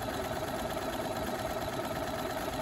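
A sewing machine runs continuously while stitching a satin stitch on a fabric postcard, giving a steady, fast mechanical whir and rapid needle patter at an even level, with no speech.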